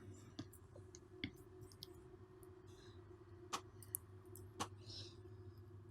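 A computer mouse clicks as the Wireshark map option is chosen, giving several faint, sharp ticks over a quiet, steady background hum. No voices are heard.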